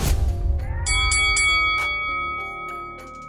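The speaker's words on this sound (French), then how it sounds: "faites sonner la cloche" A boxing-round bell rings several quick metallic strikes, leaving a bright, sustained ringing that slowly fades, loud and without talk.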